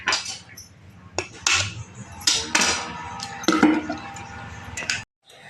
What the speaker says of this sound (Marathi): 1 लिटर ताकासाठी 10 अंडे आपल्याला फोडून ह्याच्यामध्ये